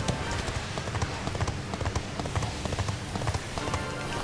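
Horse hooves clip-clop in a steady, rapid rhythm over a dense background in the Dragon Quest XI video game, loud and continuous throughout.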